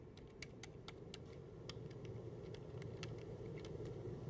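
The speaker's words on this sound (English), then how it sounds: "it has by far the least consistency out of any keyboard I have ever touched" A computer keyboard with very uneven, inconsistent key feel is typed on: irregular, sharp keystroke clicks sit over a steady low rumble, fairly faint, with no talking.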